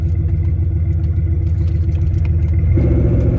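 A race car engine at Woodburn, whose third-gear synchro is weak, holds a loud, steady, low drone as the shift into third fails. Near the end the pitch drops and the engine note changes.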